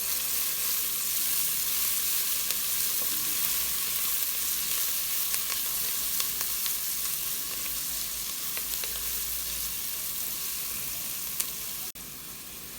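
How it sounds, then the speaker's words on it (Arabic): Onions softening in a pot for lentil soup, a steady close sizzle with occasional scrapes of stirring throughout, no voices. "بقلبهم لحد ما تدبل البصلة، ما بدي البصلة لا تحترق ولا تاخد لون، بس تدبل."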